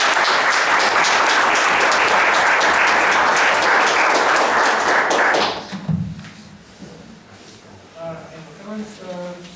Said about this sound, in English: If anybody wants to give applause for the staff.